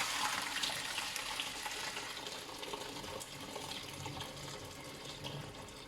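Water from washed beans for moi moi draining through a sieve, a steady close splashing pour that runs without pause and fades slightly toward the end.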